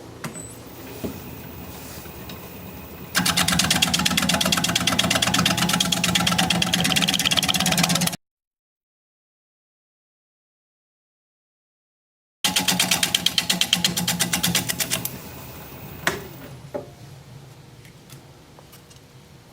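A wood lathe spins a root ball bowl at about 800 rpm, its motor whirring with a loud, rhythmic pulsing that starts abruptly, cuts out to silence midway, then resumes before fading back to a quieter hum.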